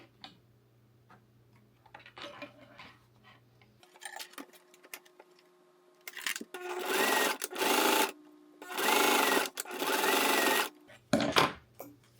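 A sewing machine sews webbing onto foam in several short bursts of rapid stitching, with pauses and handling noises between the runs, close by.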